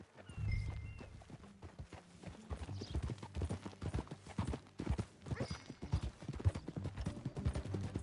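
Hooves of a horse in Red Dead Redemption 2 clip-clop at a steady walking pace, close and clear, a continuous rhythmic trot on hard ground.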